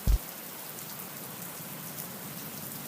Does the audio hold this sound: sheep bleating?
no